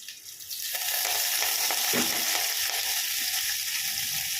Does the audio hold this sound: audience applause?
no